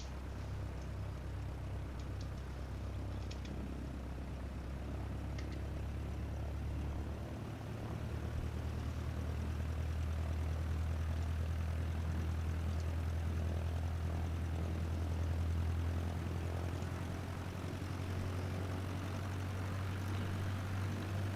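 Propeller airplane engine in Microsoft Flight Simulator (career mode) holding a steady, loud drone that swells slightly as power builds for takeoff, continuous with no talking.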